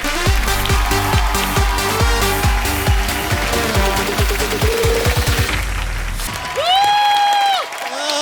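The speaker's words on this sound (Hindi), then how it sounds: "एक बार जोरदार तालियां बजाइए गौरव, सिद्धार्थ और ओजस्वी के लिए।" Studio audience of a Hindi TV comedy show applauds and cheers loudly over pounding rhythmic stage music, the dense clapping filling the hall before fading as a voice cuts in at the end.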